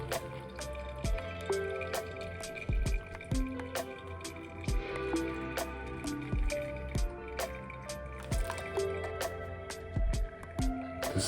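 Water poured slowly over coffee grounds in a glass Chemex brewer, a soft steady trickle with small drips and splashes running continuously at close range, no talking.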